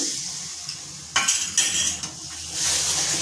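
Spices being stirred in a cooking pot over low flame after salt and water are added, with metal spoon scrapes and clinks against the pot over a gentle sizzle, close and without speech.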